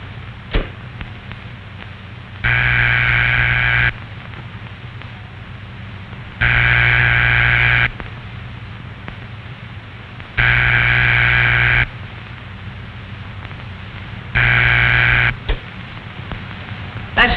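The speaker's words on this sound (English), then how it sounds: "That's the ringing signal." Telephone ringback tone heard after dialing on an old rotary phone: four steady buzzing tone bursts of about 1.5 seconds each, separated by roughly 2.5-second gaps, with a faint hum underneath, alone and fairly loud.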